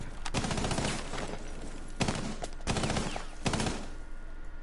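Pistol shots ring out in Rainbow Six Siege on PS4, four sharp, loud reports spaced roughly a second apart over a steady game-noise bed, with no talking.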